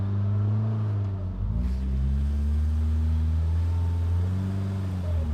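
A 2025 Polaris RZR Pro R crawls over rocks at half throttle with rock suspension mode, its engine a steady, loud low drone with shifting tonal harmonics and a brief dip as revs change, no speech.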